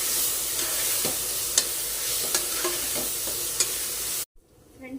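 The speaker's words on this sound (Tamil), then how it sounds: "இது கொஞ்சம் எண்ணெயில் நல்லா இந்த மசாலா வணக்கிக்கணும்" Masala for tomato biryani sautéing in oil in a pan, a steady close sizzle with faint stirring clicks, cutting off abruptly near the end.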